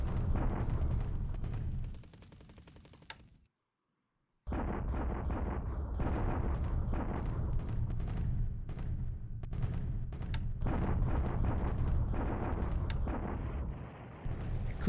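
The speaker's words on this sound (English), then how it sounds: "Okay, bombardment here." Dense rumbling bursts of artillery bombardment from the War in the Pacific video game, loud and continuous with a brief silent gap, then resuming as a steady barrage of thuds and crackles.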